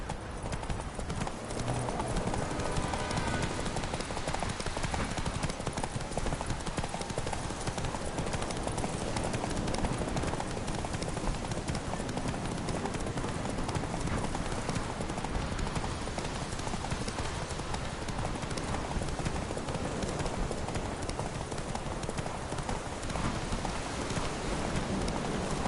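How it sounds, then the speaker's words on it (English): Horse hooves galloping in The Witcher video game, a fast continuous clip-clop rhythm that stays loud and close throughout, with rain-like patter blended into the steady beat. "Run, Roach."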